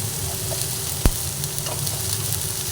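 Katla fish and eggplant fry together in oil, a steady close sizzle with one sharp utensil knock in the middle and no talking.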